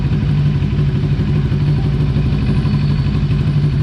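A motorcycle exhaust fitted with a replacement silencer idles loudly and steadily nearby, a continuous low throbbing engine rumble with no pauses.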